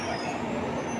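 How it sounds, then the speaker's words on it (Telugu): Coromandel superfast express train in motion, giving a steady, close rumble of rolling wheels and carriages that holds at one level for about a second with no voices. "సూపర్ ఫాస్ట్ ట్రైన్ అండి, కోరమండల్ ఇది."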